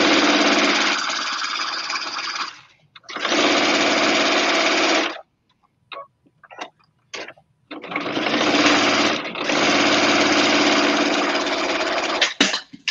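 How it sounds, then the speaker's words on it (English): A sewing machine stitching a quilted apron runs in long whirring bursts, pauses with small clicks and handling noises while the fabric is adjusted, then runs steadily again, close and loud, with no voices. "Right, keep sewing. And reverse stitch a couple of times."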